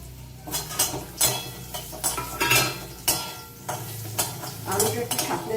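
Cubed potatoes go into a pan of hot oil with black cumin seeds and bay leaf for a Bengali prawn dish, sizzling and frying while a utensil stirs and scrapes the pan in repeated strokes, close and fairly loud.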